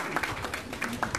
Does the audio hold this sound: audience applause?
yes